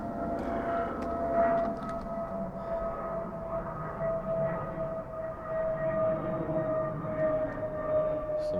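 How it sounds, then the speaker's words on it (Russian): An airplane passes overhead in winter near a frozen lakeside stadium, a steady distant droning hum with a faint tonal whine, continuous and fairly quiet throughout. "Самолет."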